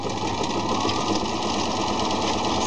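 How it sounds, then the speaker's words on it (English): Sewing machine stitching knit fabric, a continuous fast mechanical whir with steady rhythm, close and fairly loud, with no voices. "sewing your fabric"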